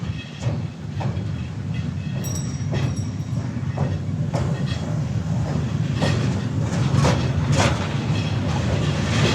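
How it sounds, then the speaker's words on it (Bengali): A train rumbles slowly over the Karnaphuli bridge, heavy low drone with rhythmic clacks of wheels over joints, loud and close, a few metallic squeals along the way. "অনেক স্লো যায় ট্রেনের পর দিয়ে।"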